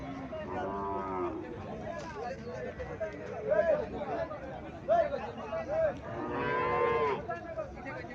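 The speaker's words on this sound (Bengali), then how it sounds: "এখানে একটা গাভী দেখা যাচ্ছে ক্রস" A cross-breed cow on a farm lets out several low moos over about eight seconds, with murmuring people talking in the background.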